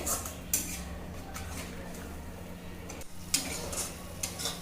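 Masala frying in a pan for a village-style Assamese local fish curry, a steady low sizzle with scattered scrapes and clinks of a utensil stirring, close and fairly quiet, with no talking.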